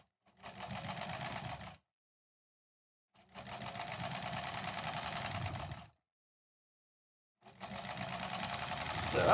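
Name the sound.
sewing machine stitching quilt blocks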